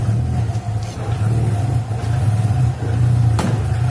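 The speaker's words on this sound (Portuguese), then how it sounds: "Vamos então aqui ligar o motor." A car engine, freshly refilled with coolant after a bleed, runs at a steady low idle with a rough, lumpy throb close by; a brief sharp knock stands out near the end.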